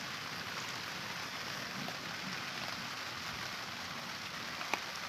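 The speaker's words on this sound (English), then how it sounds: "sadly raining in Cleveland." Rain falling steadily in Cleveland, a soft continuous hiss of drops on surfaces at low level with one faint sharp tap near the end, no voices.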